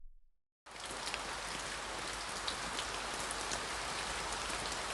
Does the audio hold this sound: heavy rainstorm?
yes